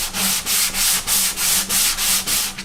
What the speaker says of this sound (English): you can come in here and do this using different grit sandpapers.